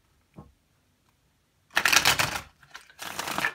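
Tarot cards being shuffled by hand, heard as a faint tap followed by two loud, dense riffling bursts close by, separated by a short pause and a small rustle.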